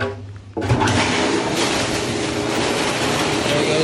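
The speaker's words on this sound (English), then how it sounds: "There goes the water out the backwash." A pool sand filter pump starts up and runs with a loud steady roar as backwash water rushes out, one of several sand filters being backwashed at once.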